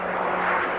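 Jetstream 41 turboprop airliner, nine-seater with turboprop engines flat rated to 1500 shaft horsepower, flying at the Farnborough Air Show; a steady, loud broadband engine roar with a constant low hum, no talk.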